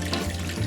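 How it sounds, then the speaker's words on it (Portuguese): Water pours in a steady, close gushing stream into a marinade of orange juice, vinegar, spices and salt for honey-glazed soy chicken, alone and without talk. "E agora nós vamos colocar 700 ml de água nessa mistura."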